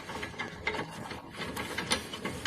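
Wrench clicks and metal-on-metal ratcheting come from loosening a bolt on a Honda CR-V front shock absorber, a steady close run of mechanical clatter with no voices.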